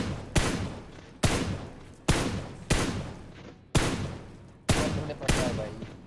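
Gunfire in PUBG Mobile coming from a house: seven loud, sharp shots spaced roughly a second apart, each with a long ringing decay, heard close and alone.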